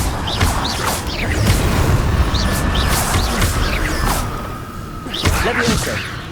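Incendio, a fire spell, is cast in the video game Hogwarts Legacy. It gives loud whooshing bursts and booming impacts that repeat over a rumbling game backdrop.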